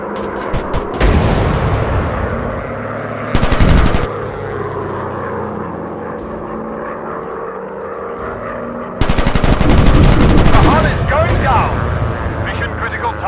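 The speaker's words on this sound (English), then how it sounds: "Watch out for their guns." Rapid machine-gun bursts from WW1 fighter planes in an aerial combat video game, loud staccato volleys at the start, mid-clip and a long burst near the end, over droning aircraft engines and spoken radio callouts.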